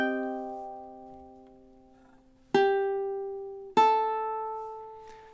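Ukulele plays a slow phrase from a song: one sustained note ringing and fading, then two plucked notes struck about a second apart, each decaying softly and heard up close with no talking.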